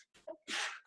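One sharp sneeze rings out in a chemistry classroom, a quick intake of breath followed by a loud, bursting exhale, close and alone.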